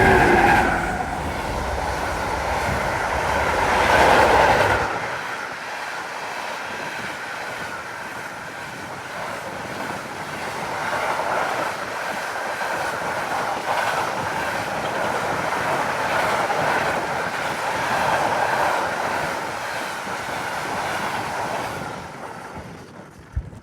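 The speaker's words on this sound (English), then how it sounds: "It double consists of a 152 and a 185 hauling an ore train." A heavy ore train hauled by two electric locomotives, a class 152 and a class 185, rumbles past at close range in Ashausen, a loud sustained roar of engines and rolling wagons that fades out at the end.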